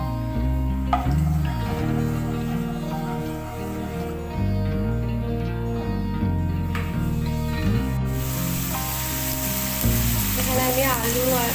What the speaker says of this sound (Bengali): এখানে আমি কড়াইতে চিংড়ি মাছটা ভেজে দিচ্ছি